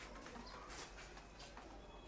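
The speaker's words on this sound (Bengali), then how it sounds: "এটা নর কবুতর" A male pigeon coos softly among pigeons kept for sale, a few faint low repeated coos heard against quiet background noise.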